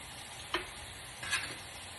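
Bacon fries on a grill with a soft, even sizzle, interrupted by two brief scraping clicks of a utensil against the pan.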